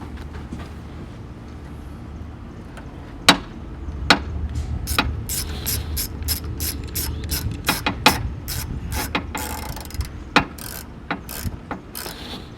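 A hand ratchet clicks repeatedly in quick bursts while an intake is tightened on a 2008 Hyundai Tiburon, sharp metallic pawl ticks with a few louder clanks, close up and alone with no talking.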